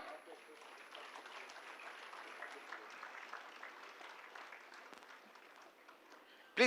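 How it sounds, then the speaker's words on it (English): Audience applause at a hospital golden jubilee and cancer center foundation stone ceremony in Coimbatore, a steady crowd clapping at moderate distance throughout. "Please give them a big round of applause."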